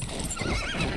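A horse neighs in the video game Battlefield 1, a short, loud whinny over a dense wash of battle and game sound.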